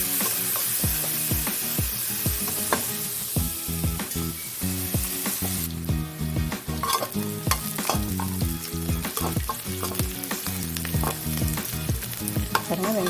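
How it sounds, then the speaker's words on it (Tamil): Onions sizzle steadily in a hot pan, sautéing until golden, while a spoon stirs and scrapes in quick, repeated strokes, close up, with no one talking. "இதை நல்லா பொன்னிறமாக வதக்கும்."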